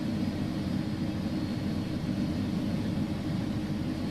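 An iniBuilds A300 jet engine spooling up at start in X-Plane 11, a steady, heavy low roar with a hissing upper layer that holds level throughout, no voices over it.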